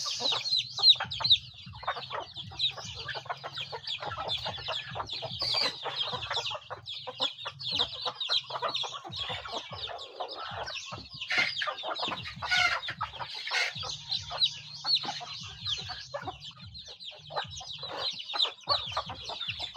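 A flock of chickens clucking continuously, many birds overlapping in busy, chattering calls with a low rumble beneath.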